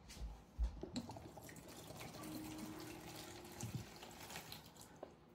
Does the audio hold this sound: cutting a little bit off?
no